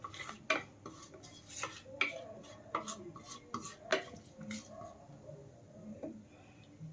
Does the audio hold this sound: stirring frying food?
yes